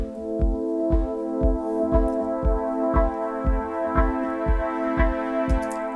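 An Ableton Live vocoder uses percussion tracks as an external carrier, so a sustained buzzy chord is chopped into a steady beat of thumping pulses, roughly two per second, over six seconds with no speech.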